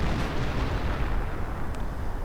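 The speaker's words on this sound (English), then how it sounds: "Artillery blasting up the ground" Artillery fire and explosions rumble in a Company of Heroes EF Mod battle, a dense continuous roar of blasts tearing up the ground, loud and low-heavy throughout.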